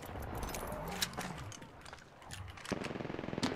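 Gunfire in the video game Apex Legends, with several sharp shots near the start and a rapid burst of automatic fire at the end, moderately loud over faint background game sounds.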